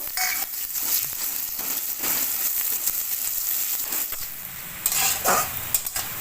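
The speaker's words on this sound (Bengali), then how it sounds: "এবার দিয়ে দিচ্ছি পেঁয়াজ কুচি। পেঁয়াজটা একটু ভেজে নেব।" Chopped onions hitting hot oil in a pan for a tilapia curry, giving a steady broadband sizzle with occasional scraping and utensil clinks, fairly close and continuous.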